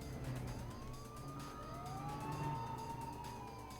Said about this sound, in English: listen to the sirens blasting down the highway there